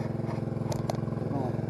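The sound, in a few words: engine-drive welder engine idling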